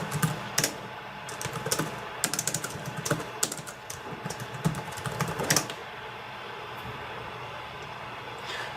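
Fingers type commands into a Linux terminal on a computer keyboard, a steady run of close, clacky keystrokes that stops partway through, leaving a faint background hum.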